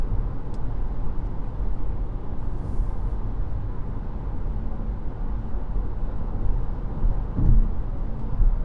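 Steady road and engine rumble inside a 2026 Geely Starray EM-i SUV driving on a highway in petrol engine mode, a constant low drone with no speech.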